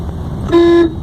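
A single short car horn toot sounds loud and close, lasting about a third of a second amid engine noise.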